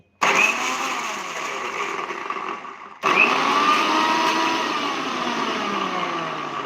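A mixer grinder jar grinding masala spice paste for Dhoraji bhungla bateta starts with a loud whirring roar, cuts off briefly around the three-second mark, then restarts and keeps grinding steadily and close up.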